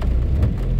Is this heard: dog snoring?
no